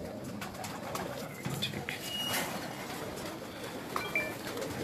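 A male pigeon on a rooftop coos softly in low, repeated murmurs over steady outdoor background noise, with a few faint chirps from other birds.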